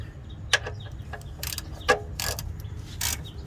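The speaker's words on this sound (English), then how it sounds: "here is a drain plug, which is a 17mm socket, which I'm going to remove with a ratchet" A ratchet wrench on a 17mm socket loosening the oil drain plug of a Honda Element, heard as several short, crisp clicking bursts spaced irregularly, close up and fairly loud.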